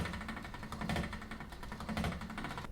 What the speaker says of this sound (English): roll out our fondant just a little bit and then place it into our pasta machine